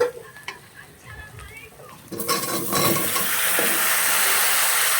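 Cut vegetables, including potato and eggplant, tipped into a hot pan erupt into a loud, continuous sizzle that keeps hissing steadily, after a quieter moment of faint kitchen clatter.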